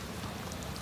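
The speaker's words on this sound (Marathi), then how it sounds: "पाऊस पडतोय" Rain falls in a steady, dense patter, a brief even wash of droplets with no other sounds standing out.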